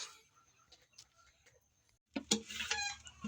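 Backyard chickens cluck softly in short, scattered calls while being fed chopped cabbage and pechay, then a louder burst of clucking and scratching follows near the end.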